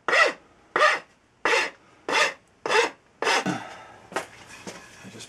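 Rasping strokes chamfer the corners of a wooden work-axe handle, about eight short, evenly spaced scrapes close up, the last few quicker and softer.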